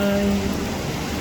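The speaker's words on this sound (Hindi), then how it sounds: "जब भी कभी हम इस तरह बरसती बूंदों को या बौछारों को देखते हैं" Rain falling in Bangalore, a steady close wash of drops on surfaces, with faint tonal traces early on and no voices.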